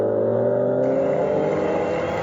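A Hot Wheels toy Dodge Viper, the number 10 car, speeds down a track in an endurance racing series, giving a continuous loud rolling whir that stays steady from start to finish with no talk over it.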